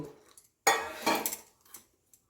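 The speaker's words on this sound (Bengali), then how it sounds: "এবার হচ্ছে এটাকে আমি জলে গুলে নেব।" Spoon clinking and scraping against a bowl while biryani masala is stirred into water, two short close bursts of metallic scraping with quiet gaps between.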